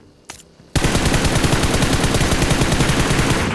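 Rapid automatic gunfire in the mobile battle royale game BGMI during a solo ranked match, a brief shot then a sustained, loud burst of rhythmic rounds filling the whole moment.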